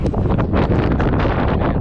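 Wind buffeting a microphone outdoors at a country pond, a loud continuous low rumble and gusty roar with no clear pauses.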